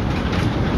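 A train rolls steadily along the rails with a dense, continuous rumble and rhythmic clatter, heard from inside the carriage with no talk.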